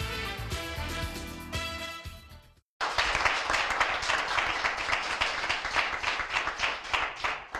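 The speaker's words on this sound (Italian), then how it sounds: "Non era un bel applauso?" Outdoor crowd at a cyclocross race, the Vittorio Veneto Grand Prix, clapping in dense, sustained applause after a brief gap following music, steady and fairly close.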